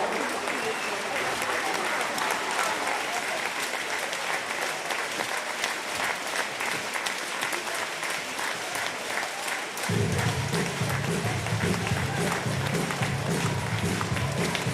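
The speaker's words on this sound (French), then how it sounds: "On peut applaudir également." Audience applauding at the Montreux Volley Masters volleyball award ceremony, dense sustained clapping filling a large hall, joined by a low rumble of crowd noise and music in the second half.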